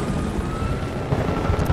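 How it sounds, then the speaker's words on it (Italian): Helicopters in the Battlefield Bad Company video game, on the Rush Port of Valdez map, give off a continuous low rotor drone with a faint steady whine above it, loud and unbroken throughout. "Dona, con tutti e due elicotteri."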